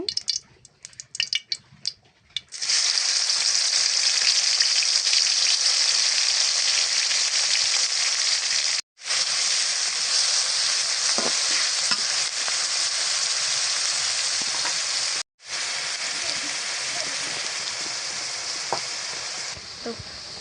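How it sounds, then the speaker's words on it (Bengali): Ground ginger and garlic paste hit hot oil in a wok, setting off a loud, steady sizzle that runs almost unbroken for nearly twenty seconds after a few scattered clinks at the start, with two brief dropouts. "তো কড়াই তেল দিয়ে দিছি এখন বেটে রাখা আদা রসুনগুলো দিয়ে দিব"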